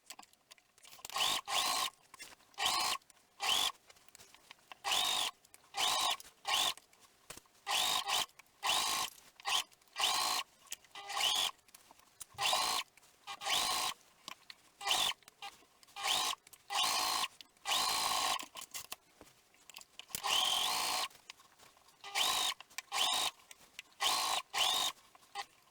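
A sewing machine runs a double row of stitching around a shirt armhole in many quick, even bursts with short gaps between them, close up and moderately quiet.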